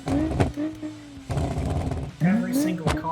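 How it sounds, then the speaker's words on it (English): A rally-style car engine in the BeamNG driving game with two mufflers and a catalytic converter, revving in loud rising and falling bursts, briefly dropping out, with talk over it. "Everything sounds like a rally car."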